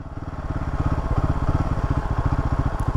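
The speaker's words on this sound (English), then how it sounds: "I'm literally opening this throttle" Close up, a 2024 Royal Enfield Himalayan single-cylinder engine pulses with a rapid, even thump as the throttle opens, running slightly lean at altitude. The beat grows a little louder, with no voices.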